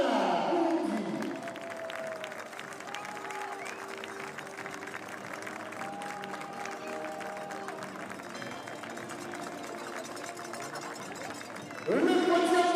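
Applause and crowd noise fill a track-meet stadium as the podium finishers of a fast 5000 m race are honoured in Paris, a steady wash of clapping running under an announcer's voice throughout.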